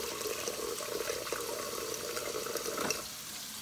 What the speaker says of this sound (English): See, there's a sink running to make hot.